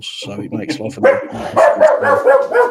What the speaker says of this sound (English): That's my dog involving himself in the show.